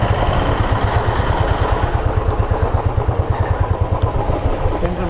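A motorcycle engine idles close by in a temple parking area, a loud, steady low-pitched chug with an even pulsing rhythm and no talk.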